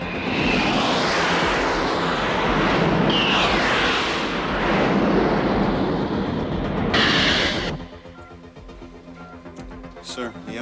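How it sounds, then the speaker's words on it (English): An F-104 jet aircraft roars past in flight, a loud broad rushing sweep with rising whooshes that cuts off abruptly, leaving quieter background sound and voices. "the F-104 has entered target area."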